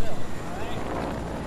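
A helicopter flies in the video game Fortnite, a dense, steady rotor roar with choppy pulses at the start, loud and close throughout.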